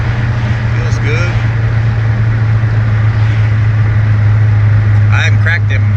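A 425 hp Chevrolet Monte Carlo SS engine drones low and steady under light throttle while driving, loud and close inside the car, with brief voices over it.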